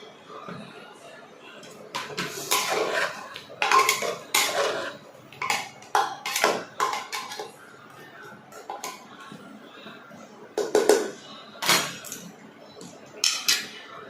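Meat and potatoes being stirred and sautéed in a pot, with repeated scraping and clinking of a utensil against the metal in irregular bursts, close and fairly loud.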